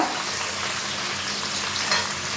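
Cabbage and capsicum stir-frying in a pan over a high flame, a steady close broadband sizzle with light stirring scrapes throughout.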